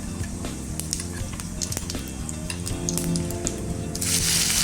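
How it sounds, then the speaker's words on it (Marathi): Coarse ground spice paste for soybean kheema drops into hot oil already holding cumin and mustard seeds, giving a dense crackling sizzle and spatter that grows louder and hissier toward the end, with no voices. "तेल गरम झालं की आपण जी पेस्ट करून ठेवली होती भरड ती घालूया."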